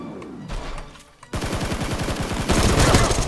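Rapid automatic gunfire rattles in the mobile shooter Knives Out during a first-person mode match, first as bursts, then after a short pause as a sustained loud stream of shots that grows heavier toward the end.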